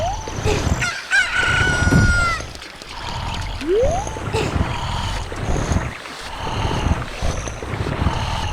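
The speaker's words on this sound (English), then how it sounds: "I just need to wait for this chicken to hatch so we can wake up Mario." A rooster crows after a chicken hatches in a Zelda video game, a loud, rising cock-a-doodle-doo over steady game background sound, with clucking and other fowl noises around it.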